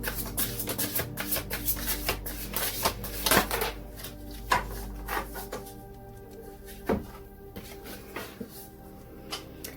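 Tarot cards being shuffled up close, a run of soft crisp riffles and slaps with sharper taps, steady under a faint background hum with no talking.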